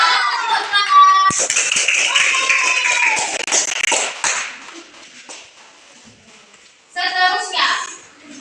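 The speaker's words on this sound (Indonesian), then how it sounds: "Tepuk tangan." Schoolchildren in an elementary classroom break into a burst of rapid clapping, then a teacher and children talk, followed by a second shorter round of applause near the end.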